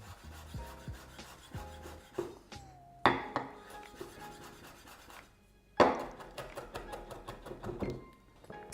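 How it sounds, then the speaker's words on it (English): Knife chopping crushed garlic into small slices on a board: a quick run of close, light taps and scraping strokes with brief pauses, fairly quiet and without talk. "Just crush the garlic and then chop it into small slices"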